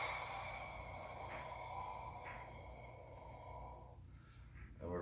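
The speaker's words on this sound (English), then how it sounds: "Pay attention to the breathing." Quiet, faint breathing during a combat yoga shoulder-rotation exercise, with soft inhales and exhales and snort-like breaths over a low steady hum.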